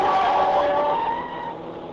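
In a radio drama scene, a car drives across a city intersection against the light with a high engine whine and a brief tire squeal, loud at first and then fading as it moves away.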